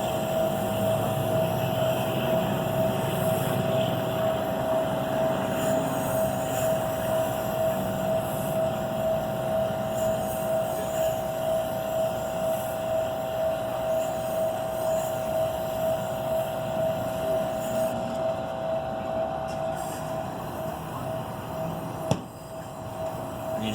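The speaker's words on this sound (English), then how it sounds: "Right on the center of the honing wheel, just maintain the angle." Tormek T2 honing wheel working a damaged Dexter knife, a steady motor hum with a sustained whirring drone and faint rubbing, continuous and even throughout, ending in a brief knock.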